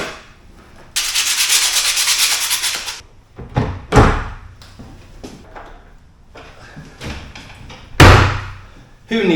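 A household door is cut across with a hand saw to shorten it while setting up a bike storage space, giving a sustained rasping burst of sawing followed by several sharp knocks and thuds.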